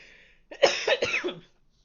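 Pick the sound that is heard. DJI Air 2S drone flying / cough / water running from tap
cough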